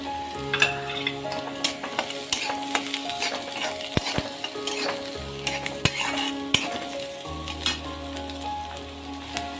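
Chopped onion and green chili fry in a pan with a steady sizzle, broken by frequent metal spoon taps and scrapes against the pan while stirring, close up and with no voices.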